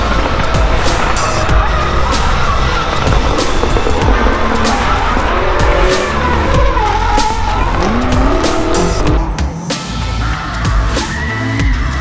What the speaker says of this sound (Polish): Samochód wystartował właśnie,